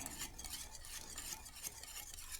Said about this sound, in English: But it'll work into this if I stir it a little bit.